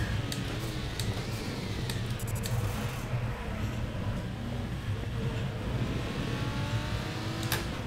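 The engine of a GT4 race car in the RaceRoom Racing Experience game drones steadily and loudly throughout. Brief clicks and a faint whine sit on top of the engine, and nobody speaks.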